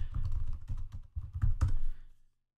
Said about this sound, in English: preferably typing the correct OSPF instance to begin with